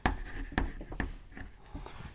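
Pen or pencil writing a large number by hand, heard as a close series of short scratchy strokes and taps with brief pauses between digits, no talking.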